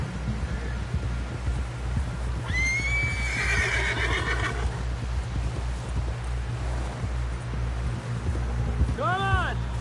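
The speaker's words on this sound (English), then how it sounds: "Someone help John down off this horse." A horse whinnies loudly with a rising, wavering call in Red Dead Redemption 2 on PS4, then a second shorter neigh near the end, over a steady low rumble and occasional hoof clatter.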